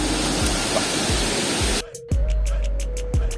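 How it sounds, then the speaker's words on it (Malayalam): Aruvikkuzhi waterfall in Kottayam roars as steady broadband rushing water, loud and close, briefly dropping away midway before the roar returns, with a faint tone and periodic thumps. "അപ്പോൾ നമുക്ക് നേരെ വെള്ളച്ചാട്ടത്തിനുള്ളിലേക്ക് പോവാം"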